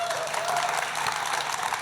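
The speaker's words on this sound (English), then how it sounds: "a big round of applause, please, to our panel, who have been fantastic" Steady, dense applause from a live podcast audience for a discussion panel, with continuous clapping throughout and no other sound standing out.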